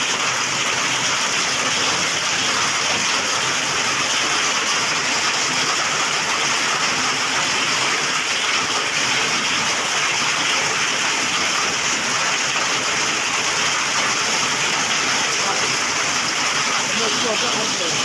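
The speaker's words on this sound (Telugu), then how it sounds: "ఈదురు గాలులతో కూడిన వడగండ్లు వాన పడింది" A hailstorm with heavy rain and gusty winds makes a loud, unbroken wash of dense hiss and roar that holds steady from start to finish.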